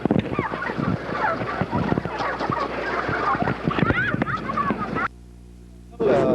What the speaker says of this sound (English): What do you think of the situation, turkeys?